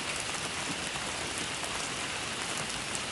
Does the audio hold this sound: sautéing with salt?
no